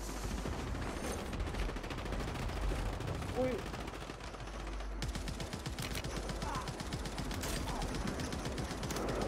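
Battle rifle fire in a video game, a steady run of sharp, closely spaced shots that continues through the whole stretch and grows denser and more clipped in the second half, with faint voice-like sounds mixed underneath.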